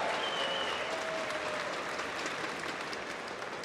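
Sustained audience applause filling a large esports arena at IEM Atlanta, a dense steady wash of clapping that holds loud throughout with no voices on top.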